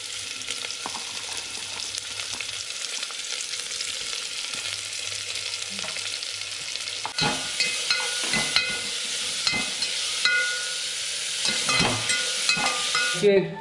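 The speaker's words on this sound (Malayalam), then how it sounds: "അതിലേക്ക് ശേഷം എണ്ണ ഒഴിച്ചതിന് ശേഷം അതേ ഉള്ളി വാട്ടുന്നു" Steady, crackling sizzle of onions frying in hot oil in a pressure cooker, with occasional scraping stirs growing louder partway through; no talking.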